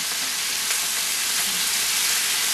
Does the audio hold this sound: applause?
no